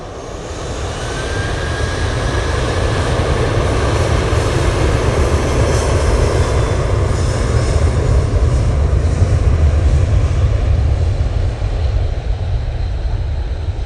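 A plane's engines at Manchester Airport give a loud, steady broadband roar that swells over the first seconds and holds without a break, with no voices over it.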